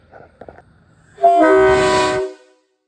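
An air train horn fitted to a Peterbilt 389 truck gives one loud, close, sustained test blast of about a second, rich in harmonics, preceded by a few small clicks and hisses.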